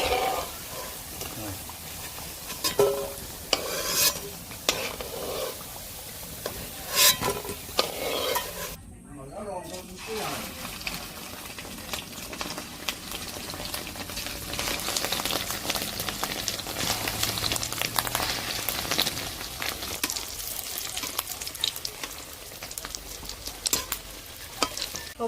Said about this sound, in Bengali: লাল করে বড়া ভাজা হয়ে গেছে তুলে নিচ্ছি